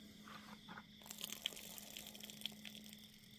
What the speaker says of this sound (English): We'll drain off our green beans.